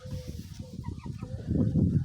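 Young cockerels making rough, broken attempts at crowing among low clucking fowl, close and steady, rising louder toward the end.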